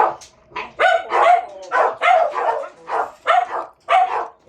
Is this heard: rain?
no